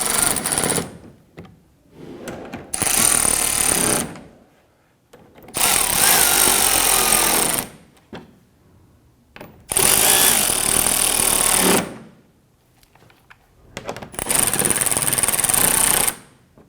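A power tool tightens bolts on a bumper impact absorber of a 2012-2017 Toyota Camry, firing in four loud, close, rattling bursts of roughly two seconds each, with quiet gaps between.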